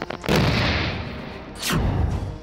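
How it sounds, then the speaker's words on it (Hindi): Two deep, booming IED explosions roll out across mountainous terrain in Kashmir, each a sharp blast followed by a long rumbling echo. "पहाड़ियों के बीच का ये धमाका आतंकी साजिश के नाकाम होने का नतीजा है।"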